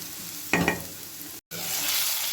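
Stuffing sizzles in a hot pan as it is briefly stirred with a scraping clatter, then the sizzling continues steadily after a short break.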